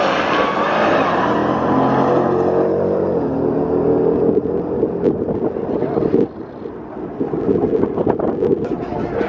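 A Ford Mustang launches and accelerates hard down a quarter-mile drag strip, its engine roaring loudly and close with wind buffeting, then fading slightly as it pulls away.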